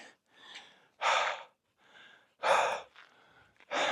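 A dog pants heavily and close by in rapid bursts of breathy gasps, loud huffs alternating with softer breaths in an irregular rhythm.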